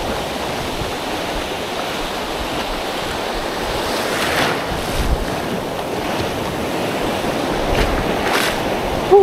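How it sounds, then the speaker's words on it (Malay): Sea waves wash and break on a shore at low tide, a steady roar with swells building and rising in the middle, under constant wind buffeting the microphone. "Oh, ada gelombang."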